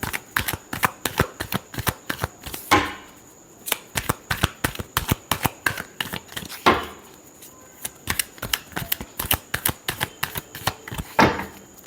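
Tarot cards are riffled and shuffled close up in a fast rhythm of crisp flapping bursts, with brief pauses marked by longer riffles every few seconds.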